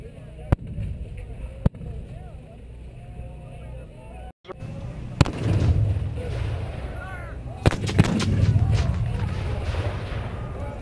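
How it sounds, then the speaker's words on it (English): Several sharp, booming cannon shots ring out at intervals at a Gettysburg battle reenactment, over a steady outdoor rumble, with a crowd murmuring and talking in the background. "The cannon you just saw discharged on the left would represent some of the cannons on Cemetery Hill."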